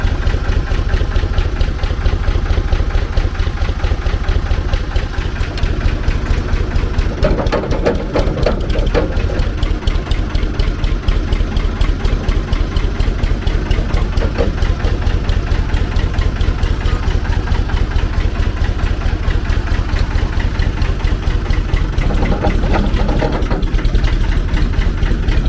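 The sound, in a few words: Sanderson offroad forklift engine idling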